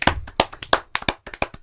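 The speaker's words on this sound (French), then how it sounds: "On peut applaudir?" An audience gives a short burst of clapping, with a handful of sharp, distinct claps close by that fade quickly.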